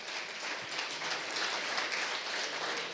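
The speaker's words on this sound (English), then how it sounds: "So let's give them a round of applause." Audience at the launch of a KykNet series giving a round of applause, a steady dense wash of clapping from many hands, moderately loud and sustained throughout.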